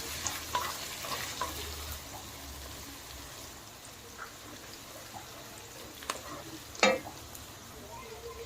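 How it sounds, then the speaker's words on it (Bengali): Onion, crushed garlic and chopped capsicum fry in a pan under a faint steady sizzle, with occasional light spatula scrapes and one louder clatter near the end, close and without talk. "পেঁয়াজ, রসুন, ক্যাপসিকাম কুচি সব ভালো করে ভাজা হয়ে গেছে"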